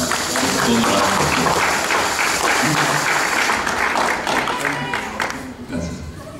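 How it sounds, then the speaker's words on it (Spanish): Church congregation applauding for the Lord, a dense sustained burst of clapping that gradually thins and fades toward the end, with voices mixed in. "Un aplauso para el Señor."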